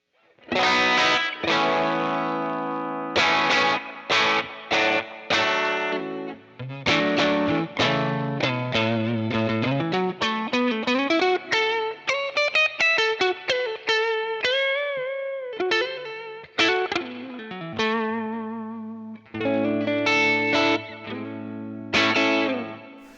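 Electric guitar played through a UAD Fender Tweed '55 5E3 Deluxe amp emulation set fairly clean, a loud, continuous run of picked notes and chords with sliding melodic lines and a few short breaks, alone without voices.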